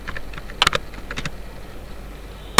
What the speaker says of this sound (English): in search you can type notepad